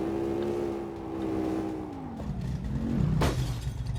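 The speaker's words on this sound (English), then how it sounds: "I think we broke a window." A truck in the My Garage video game runs its engine with a steady hum, then a brief loud smash of breaking glass as it crashes, followed by a falling engine tone.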